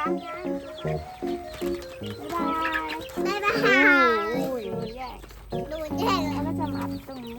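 Backyard chickens cluck in short bursts during an evening outing with children, the birds close by and mixed with a child's chatter and calls throughout.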